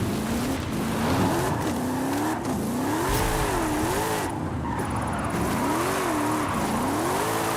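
A Mercedes drifts in Forza Horizon 5, its engine note rising and falling in wavering swells as the revs climb and drop, with steady tire noise underneath, loud and continuous.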